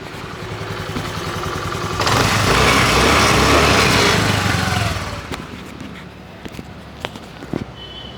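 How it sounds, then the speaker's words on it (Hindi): A Honda Activa scooter engine, recently opened and with its tappet clearance adjusted, revs up loudly for a few seconds nearby, then drops back to a quieter idle with scattered clicks and knocks. "पहले मैं सबसे पहले गाड़ी का साउंड सुना देता हूँ"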